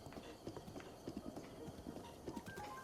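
Horse hooves clip-clopping at a steady walking pace along a path in Zelda: Breath of the Wild, a continuous rhythmic patter of footfalls with faint background sound.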